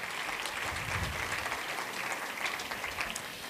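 Audience applause at a school valedictorians' luncheon, honoring the graduates' parents: steady, dense clapping from a large crowd that sustains evenly for several seconds at moderate distance.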